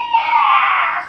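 A human voice imitates a raptor screech, a single sustained shrill, strained cry lasting about a second, loud and close, with no other sounds.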